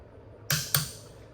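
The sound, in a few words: torque wrench clicking on John Deere 3025 tractor bolts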